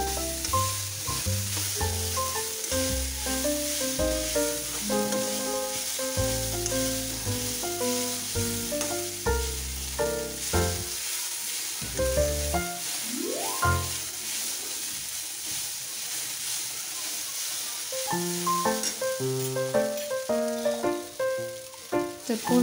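Soaked poha being stir-fried in a pan after the other ingredients have been fried: a steady sizzle with stirring scrapes running throughout, largely under loud background music.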